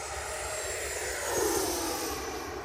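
An FMS Avanti 90mm EDF RC jet makes a speed pass, its ducted fan a loud steady roaring whoosh that swells briefly as it passes and then holds, heard from the ground with no talking.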